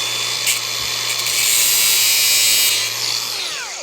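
An angle grinder cuts the head off a stainless steel pin, a loud, continuous high-pitched whine with a low steady hum beneath, swelling through the middle and then trailing off as the cut finishes.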